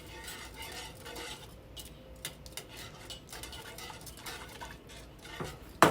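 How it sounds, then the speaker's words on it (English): Country brown gravy for liver and onions is stirred in a pan, with quiet, irregular scraping and clicking of a utensil against the pan and no talking. "you just have to keep stirring"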